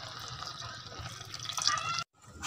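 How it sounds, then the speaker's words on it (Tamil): Milk pours steadily into a pot of cooking basmati rice payasam, a continuous soft liquid splash and trickle for about two seconds before cutting to near silence. "இப்போ நம்ம எடுத்து வச்ச 1/2 லிட்டர் பாலே ஊற்றிடலாங்க இதில்."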